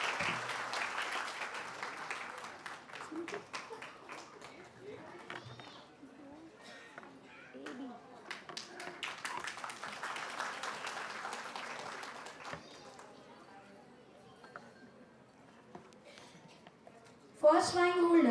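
Scattered clapping from an audience at a school annual day for kindergarten children, moderate and roomy, swelling in bursts and fading, before a loud voice cuts in at the end.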